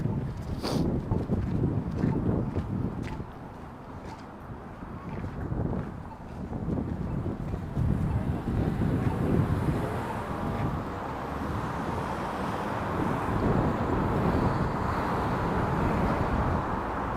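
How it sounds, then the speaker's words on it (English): Strong headwind buffeting the microphone while walking through North York, Toronto on a March afternoon, a loud, continuous low roar with gusts swelling and easing, and faint street traffic beneath. "this is a tough wind I'm walking right into."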